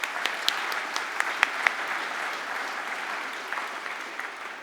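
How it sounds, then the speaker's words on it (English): An awards ceremony audience at the Science New Zealand Awards applauds steadily, with dense clapping filling the room at an even level and a few sharper claps standing out near the start. "Give them a round of applause."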